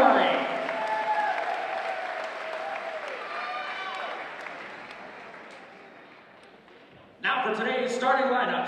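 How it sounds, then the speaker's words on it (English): Arena crowd applauds an honorary guest coach before a women's college basketball game, steady broadband clapping over a public-address voice, fading toward the end before a burst of louder cheering and clapping. "Let's give a big round of applause and welcome today's honorary guest coach, Mrs. Lee Wainwright."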